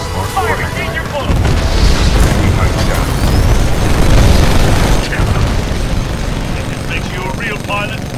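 Loud, continuous rumbling explosions and booming blasts as a warship takes a broadside in Titanfall 2, a dense roar of battle with rising and falling bursts and a voice talking over it.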